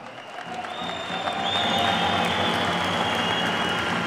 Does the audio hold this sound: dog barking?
no